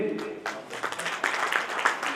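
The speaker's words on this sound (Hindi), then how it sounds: "तालियों के साथ स्वागत कीजिए।" Audience applause fills a hall as guests are welcomed onto the stage at an annual poetry gathering, a moderate wash of many hands clapping at a distance while a voice speaks over it.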